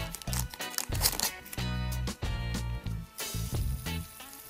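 Plastic bag packaging around a transparent fidget spinner crinkles and crackles loudly and continuously as it is handled up close during unboxing.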